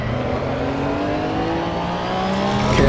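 A Porsche Cup race car engine in Assetto Corsa EVO drones loud and close, holding a steady high rev with a slight rise and a surge at the end.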